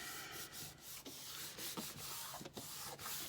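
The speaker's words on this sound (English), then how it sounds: "Burnish that down real good." Rubbing strokes from burnishing a paper pocket flat onto a journal cover, a close, soft, steady scraping with short rhythmic passes and brief breaks, no talking.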